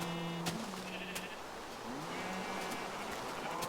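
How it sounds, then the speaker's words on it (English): Minecraft sheep bleat several times, close and clear, a few overlapping calls over a steady background hiss. "Move, sheep."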